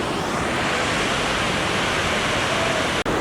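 The lower falls of the Lewis River pour in a steady, loud, broadband roar of rushing water, close and unbroken apart from a brief dropout near the end.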